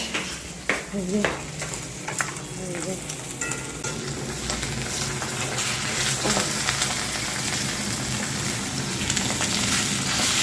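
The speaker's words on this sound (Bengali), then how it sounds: "রান্নাঘরে মাছ ভাজা হচ্ছে মাছ" Fish fries in a pan in a home kitchen, giving a continuous loud sizzle with crackling spatter that grows denser and steadier toward the end.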